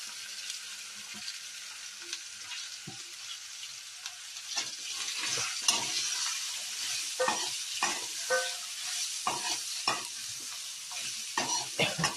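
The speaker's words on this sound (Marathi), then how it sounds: "आता आपण भाजी परतवून घेऊया पूर्ण तेल सगळ्या गिलक्याच्या पोडींना" Ridge gourd pieces stir-fried in oil in a pan with a turmeric and coriander tempering for a Khandeshi masala dish: a steady close sizzle, broken by frequent sharp spatula scrapes and knocks against the pan, with no talking.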